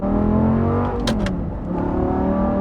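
Loud, close engine drone of a 2010 Audi R8 V10 with gated manual under load, a steady rising whine with a brief shift blip and crackle midway.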